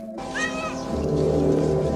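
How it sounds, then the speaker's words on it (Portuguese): Ordinary ship's cat meowing aboard the spacecraft in the film Alien, a clear drawn-out meow followed by a low steady hum of the ship's interior. "A bordo do navio há um gato comum."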